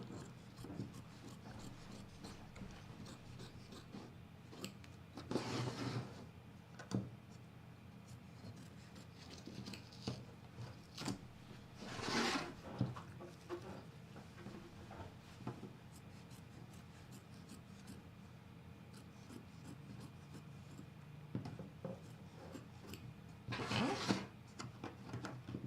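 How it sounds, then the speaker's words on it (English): Duckbill scissors cut through quilting fabric in three short, brisk bursts of crisp snipping, separated by quieter rustling and handling noise. "I'm just going to take my duckbill scissors here"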